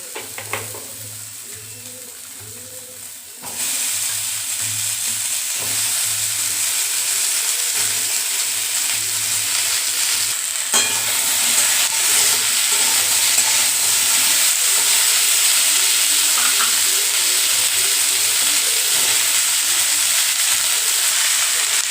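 Chickpeas and pumpkin frying in a pan, a steady loud sizzle with stirring scrapes that starts after a quieter opening and runs continuously to the end, with no talking.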